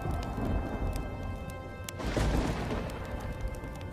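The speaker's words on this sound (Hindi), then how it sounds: "आसमान में काले बादल छा जाते हैं और जोर जोर से बिजली कड़कने लगती है" Rain falling steadily with a rolling crack and rumble of thunder breaking in midway, a dense wash of drops continuing around the boom.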